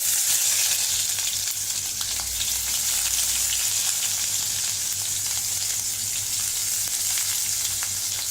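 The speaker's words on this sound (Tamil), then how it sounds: "அது நல்லா செவந்ததும் இந்த வெங்காயத்தை எடுத்து நான் உள்ளே போடுறேன்." Onions sizzling in a pan of hot oil with bay leaf and cinnamon while making capsicum gravy masala, a loud, constant close-up frying hiss with faint stirring, no talking.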